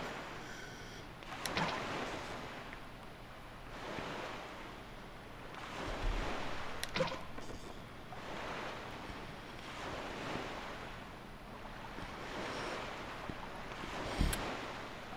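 Ocean waves swell and wash around a sailboat at sea in the video game Wind Waker, rising and falling in slow repeated surges with steady wind noise and no talk.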